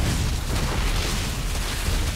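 A Protoss cannon destroyed in StarCraft, Zerg versus Protoss: a dense, rumbling explosion that fills the whole moment, steady and loud with no distinct pauses.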